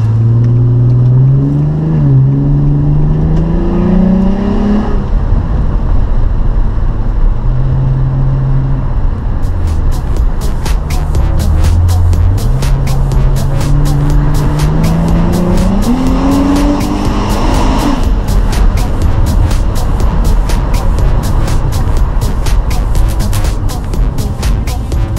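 A nitrous-fed Infiniti G35 and a turbocharged Subaru WRX race, engines loud and close as they rev and climb through gears, with shifts, rising pitch sweeps and rattling, crackling bursts in the second half; a voice talks faintly underneath.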